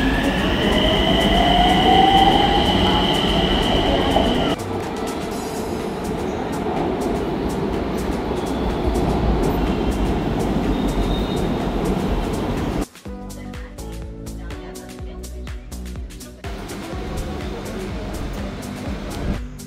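A Nagpur metro train ride: a steady rumbling run with a high wheel squeal at first, then a sudden shift to a quieter cabin hum with soft tonal sounds, no voices.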